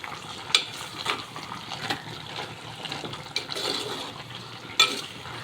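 Jackfruit avial is stirred in a cooking pot, soft scraping and wet shuffling of the pieces punctuated by a few sharp clinks of the spoon against the metal, close up with no talking.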